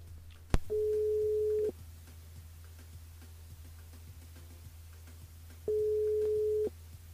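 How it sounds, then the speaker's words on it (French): A telephone line gives two long steady beeps a few seconds apart while a caller is being dialed during a live radio show, preceded by a sharp click, over a low constant hum. "Mété compose le numéro Georgette sur le jeu en cours"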